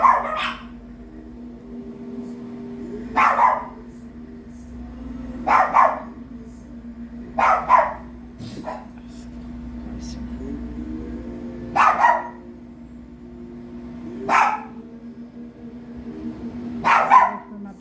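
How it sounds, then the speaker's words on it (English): Dogs bark at power tools such as drills, about seven short, sharp barks or bark clusters spaced every couple of seconds over a steady low motor hum. "The dogs love to bark at the tools that's going."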